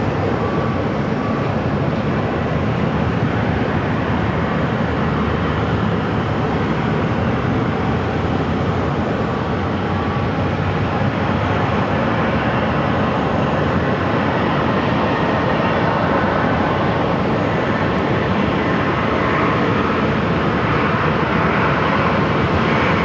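Airliner arriving on runway 8 at Phoenix Sky Harbor airport, a steady broadband jet roar that stays loud and fairly constant throughout with no talking.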